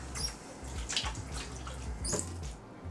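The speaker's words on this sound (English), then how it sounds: "I personally like to rinse my hands off between each product." Tap water runs steadily into a sink as hands are rinsed, with soft splashing bursts over a continuous low hiss, close and fairly quiet, no talking.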